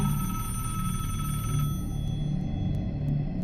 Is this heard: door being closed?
no